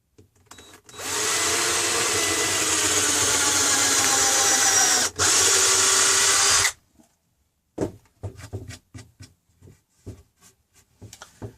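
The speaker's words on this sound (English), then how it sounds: "I've got a 6mm brad point bit in the drill, so I'm just going to drill the holes" A power drill with a 6mm brad point bit whirs loudly and steadily for several seconds while drilling holes in a bench, with a brief pause, then stops, followed by scattered knocks and handling clatter.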